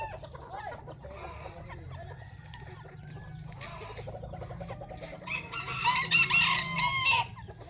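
Bantam chickens cluck and chatter in a backyard coop, a busy overlapping mix of soft clucks with a rooster crow rising near the end, moderately close over a low background rumble.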